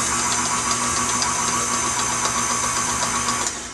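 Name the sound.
electric mixer struggling with thick cookie dough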